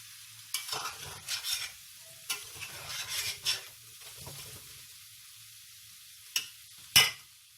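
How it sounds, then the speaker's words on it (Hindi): Seasoned potatoes for Bratkartoffeln are turned and stirred in a frying pan with bursts of sizzling and scraping between quiet pauses, then a couple of sharp clatters near the end. "अब इनको पलटेंगे, मिक्स करेंगे"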